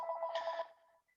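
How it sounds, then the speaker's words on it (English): A nearby telephone gives one short, trilling ring burst that fades out, heard alone. "Sorry about the phone. I can't get it."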